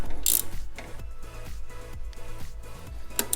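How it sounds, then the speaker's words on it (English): A ratchet clicks rapidly and evenly as it tightens a bolt on a 1993-2001 Subaru Impreza alternator relocation setup, close up, with a steady metallic pawl rhythm throughout. "And then get your ratchet in there. Make sure it's on tighten."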